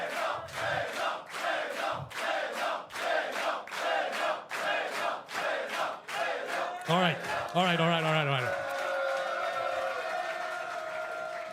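Large esports crowd at a StarCraft II premier offline upper bracket final, rhythmic chanting bursts and cheering with applause filling the hall, then a loud swelling roar; a voice speaks briefly.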